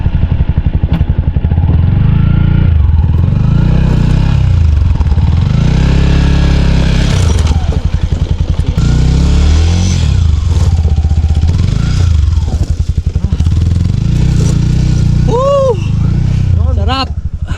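A heavy motorcycle labours up a hard, dangerous mountain trail on Mount Pogonsili, its loud, close engine repeatedly swelling and dropping in revs. Riders talk over the engine noise throughout.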